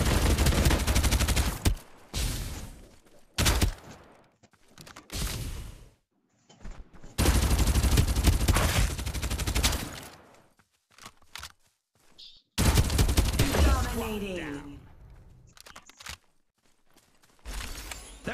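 Gunfire in the shooter game Farlight 84 comes as loud close bursts of rapid automatic fire, separated by short silences and reload clicks, with no talk.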